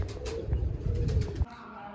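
Pigeons coo in a low, throaty burble at feeding time, close and fairly loud, with a few sharper high chirps and faint voice-like sounds, ending abruptly and leaving a quieter hum.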